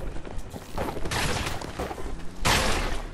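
Creeper explosions in Minecraft Dungeons, with two loud bursts of blast noise, the second sharper and near the end, over a busy backdrop of combat sounds.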